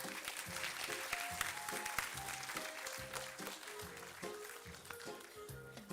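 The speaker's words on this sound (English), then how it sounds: "A huge round of applause, please." Applause from an audience at a Grade V school scholar badge ceremony, a moderate, continuous patter of clapping over a quiet backdrop of low tonal music.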